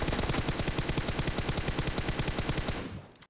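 Rapid automatic gunfire from a prone position in PUBG Mobile, a continuous loud burst of evenly spaced shots that stops abruptly near the end, with no voices.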